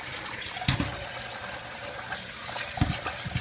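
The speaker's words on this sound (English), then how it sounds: "And just going to drain that off without losing the rice." Cloudy rinse water draining off short grain rice, a steady trickling and pouring stream with a couple of louder splashy bursts, close and alone with no speech.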